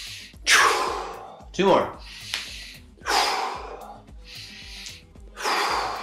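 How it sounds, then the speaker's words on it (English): Deep, forceful breaths taken in and pushed out during a yoga exercise, about five strong rushes of air with short pauses between, close and loud, alongside a brief spoken instruction. "Open those shoulders, get that breath flow. Now breathe."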